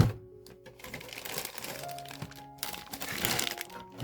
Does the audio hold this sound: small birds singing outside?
no